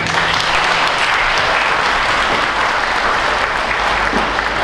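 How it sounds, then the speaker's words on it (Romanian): Loud, sustained audience applause fills a corporate celebration of Marsat S.A.'s 30th anniversary, a dense, steady wash of clapping hands from start to finish. "Aplauze, vă rog!"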